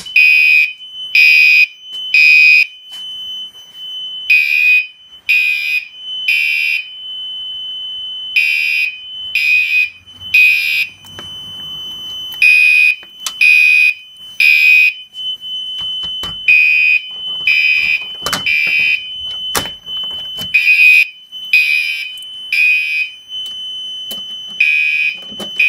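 A Firelight BG12 pull station triggers a Gentex Commander 3 fire alarm horn blasting temporal code 3: repeated groups of three loud, piercing blasts with short pauses between groups, close and steady over a faint background.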